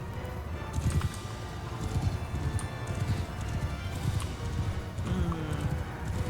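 Horse hooves clip-clop steadily and densely in a Mount & Blade 2 battle, many mounts moving at once under a low rumbling din, with occasional faint whinnies and clatter mixed in.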